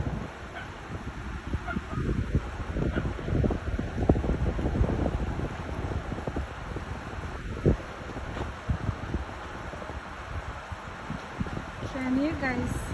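Gusty wind before a rainstorm buffets the microphone outdoors, producing a continuous low rumble that swells and eases in irregular surges, with faint bird calls and a voice nearby.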